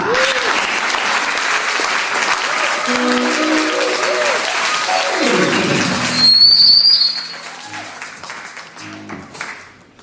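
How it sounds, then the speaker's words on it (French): A church congregation applauds loudly and continuously, with whistles and high tonal sounds rising over the clapping before it fades after about seven seconds. "Est-ce que nous pouvons applaudir pour lui?"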